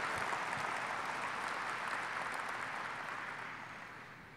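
An applause sound effect played over the sound system at a State of the Port event, a dense, even wash of clapping with no voices that slowly fades toward the end.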